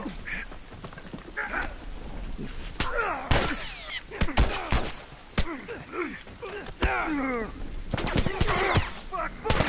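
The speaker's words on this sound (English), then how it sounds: "Combat will draw the gunfire of your foes." Sharp gunshots and bursts of fire crack repeatedly amid chaotic game noise from The Last of Us Part 1, with voices shouting over the action.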